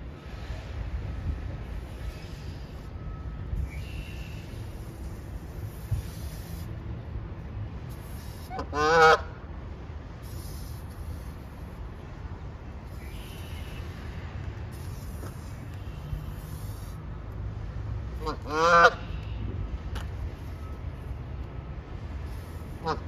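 A goose out in the wild honks twice, two short harsh calls about ten seconds apart, heard over a steady background of wind noise.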